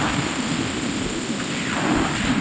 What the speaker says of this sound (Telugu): లోపల కూడా భారీ వర్షం ఉంది